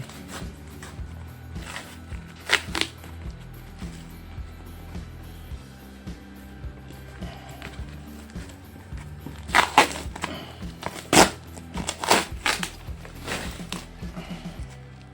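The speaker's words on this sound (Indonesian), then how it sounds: "Kita unboxing dulu ya." Packaging for a handlebar stabilizer bracket for Kawasaki Ninja SS, R and M motorcycles is handled and opened. Intermittent bursts of crinkling and rustling come close by, with a cluster near the end and quieter stretches between.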